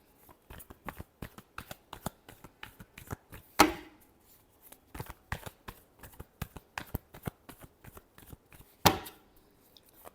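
Tarot cards being shuffled up close: a rapid, rhythmic run of crisp riffling clicks and slaps, with a couple of louder snaps, and no talking.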